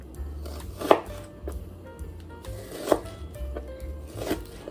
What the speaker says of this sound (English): we're going to try to slice it a little bit small, kind of like what we did with the celery